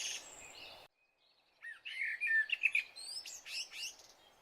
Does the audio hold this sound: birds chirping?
yes